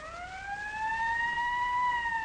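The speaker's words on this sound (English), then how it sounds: "There's the ambulance now." An ambulance siren wails steadily with a slow rising and falling pitch, loud and continuous, with no voices over it.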